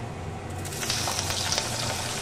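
Potatoes sizzle in hot oil with dried chillies and kalonji, a dense, close crackling hiss that holds steady and swells slightly, with faint stirring underneath and no voices.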